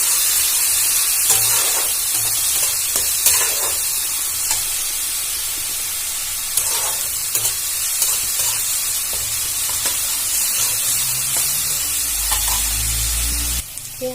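Ground onion paste fries in hot oil with dried chillies and whole cumin: a constant close sizzle broken by scraping stirs from a spatula, ending with a short low thump.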